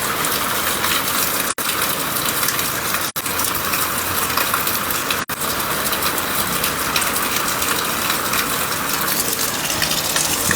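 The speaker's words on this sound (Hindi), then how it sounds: "बारिशें जो है वो फिर से शुरू हो चुकी हैं" Heavy rain pours down in Jammu and Kashmir as a steady, loud, dense rush of water that stays constant throughout, broken only by three very brief dropouts.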